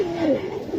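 A Giribaz pigeon coos once in a short, warbling call close by, with a soft background hiss and no talk.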